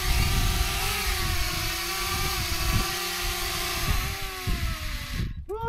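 A DJI Mini 2 drone flies overhead high in the mountains, more than 9,800 feet above sea level, giving a steady buzzing whine whose pitch wavers slightly, close and continuous until it cuts off abruptly near the end.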